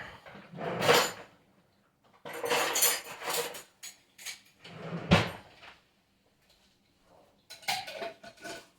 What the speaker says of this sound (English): We'll grab a lid, we'll put on our mason jar here.